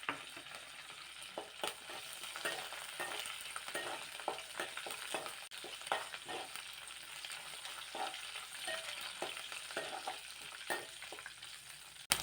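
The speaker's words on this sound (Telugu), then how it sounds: "ఇవి కూడా వేగిపోయాయి" Dried red chillies, curry leaves and cumin seeds crackle and sizzle in hot oil in a pan for a cucumber coconut chutney, a steady frying hiss with scattered pops and stirring scrapes throughout, no one speaking.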